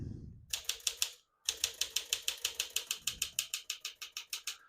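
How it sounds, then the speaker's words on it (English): Keys of a 1955 Smith-Corona Silent-Super manual portable typewriter strike in a steady, even rhythm, loud and close, after a brief pause near the start, with no talking. "We're going to keep that on single for now and finish typing."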